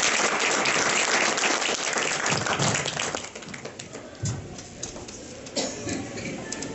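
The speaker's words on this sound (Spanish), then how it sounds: "vamos a recibirlo con un fuerte aplauso a Mauricio Orozco Enríquez" Audience clapping loudly for a speaker being welcomed, dense at first and then thinning into scattered individual claps.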